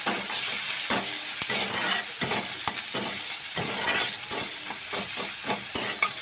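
Chopped onion, tomato and grated ginger fry in a pan for spinach dal, with a constant bright sizzle and frequent clinking, scraping stirs of a utensil against the metal, close up and with no talking.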